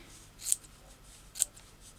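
Scissors trim material for a new journal cover with two sharp, close snips about a second apart in a quiet room.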